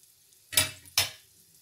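Stuffed chicken triangle paratha cooking on a hot griddle gives off two short, close bursts of sizzling about half a second apart, with near silence around them and no voices.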